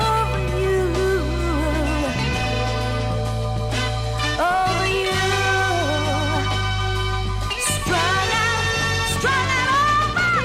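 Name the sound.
music sample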